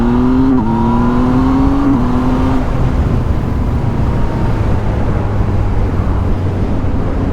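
A 2020 Yamaha MT-09 with a Mivv exhaust line pulls hard from close by, its engine note climbing through two quick quickshifter gear changes, then settling into a loud steady drone with wind roar.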